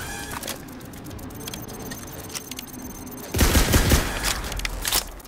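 Rapid bursts of video game weapon fire from a rocket launcher, a crackling volley of small reports that grows louder and denser in the second half, with no speech.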